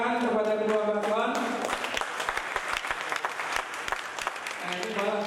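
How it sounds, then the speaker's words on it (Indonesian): Audience applause at a regency chief candidates' debate in South Aceh, a steady burst of clapping from the crowd for the two candidate pairs, rising between stretches of a voice speaking over a microphone. "silakan tepuk tangan kepada kedua paslon"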